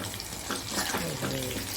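Chicken fries in a pan with salt, turmeric and ginger, giving a steady, watery sizzle that runs continuously throughout, fairly close and alone.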